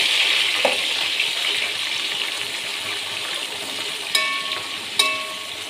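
Chopped onions go into a hot pan with whole spices for bagara rice and sizzle in a steady hiss, with a few sharp clinks of a utensil against the pan.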